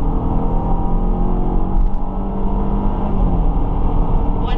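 A Toyota RAV4 accelerates hard from a standstill toward 100 km/h on an icy road, its engine droning loud and steady from inside the cabin, with the pitch shifting as it pulls through the gears.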